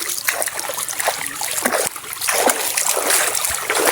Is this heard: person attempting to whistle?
no